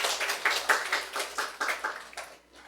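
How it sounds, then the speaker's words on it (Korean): Sparse, quiet hand claps from a church congregation during a Korean Sunday sermon, a handful of distinct claps in loose rhythm that taper off toward the end. "그렇게 하실 하나님께 박수 올려드립니다"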